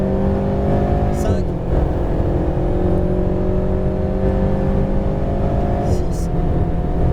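An Alpine A110R race car at full throttle on a circuit in Fay-de-Bretagne, its engine droning loud and close in the cabin, with two brief lifts where the note dips before pulling hard again.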